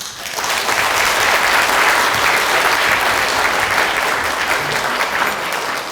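An audience at a Gangwon forum lecture bursts into sustained, dense applause to welcome a lawmaker to the stage, steady and loud for several seconds before easing slightly.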